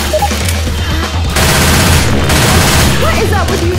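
Sustained rapid gunfire in Left 4 Dead 2 pounds loudly and steadily, swelling partway through, while a voice speaks over the shooting.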